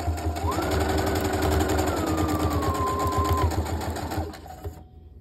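A sewing machine stitches through layers of cleaning cloth, a steady close mechanical whir with rapid needle rhythm running continuously before stopping near the end.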